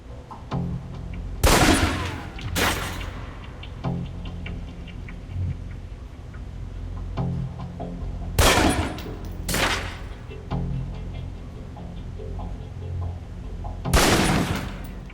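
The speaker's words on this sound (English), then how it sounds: "Equip the pistol, then aim down range and take some shots at the target." Pistol shots fired at a range target in the PC game Alpha Protocol, spaced sharp cracks in small pairs and singles with quiet gaps and low background hum between them.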